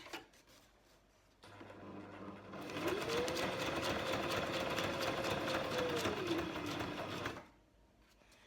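A sewing machine stitches a paper pocket, running steadily for about six seconds at close range before stopping, with quiet handling sounds before and after.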